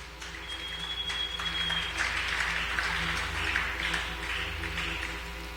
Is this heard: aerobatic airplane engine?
no